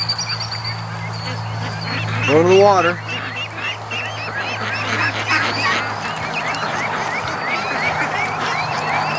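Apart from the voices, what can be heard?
ducks quacking and honking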